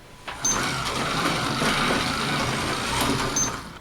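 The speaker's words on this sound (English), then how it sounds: "We can now take our standard analog car and place it on the track and control it." Analog slot car racing around a model race track, a steady whirring electric motor hum with rising and falling pitch as it circuits, fairly close and continuous.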